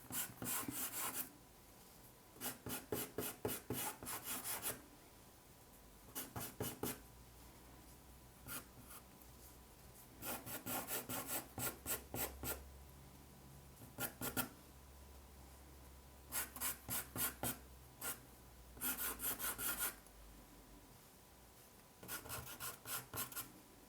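Pastel pencil strokes scratching across paper while shading hair, coming in short rhythmic bursts of quick scribbling separated by brief pauses, close and clear with no talking.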